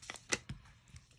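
A few crisp scissor snips trimming ribbon, close and quiet, spaced irregularly over about a second, with no talking.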